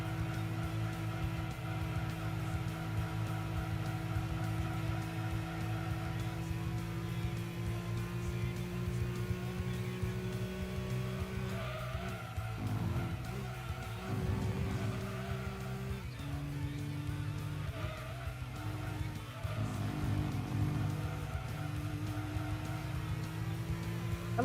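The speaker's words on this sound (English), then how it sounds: "They changed how this car sounds." Video game car engine droning steadily, with pitch stepping up through gear changes and brief tire squeal and skid noises midway, heard alone at a moderate level.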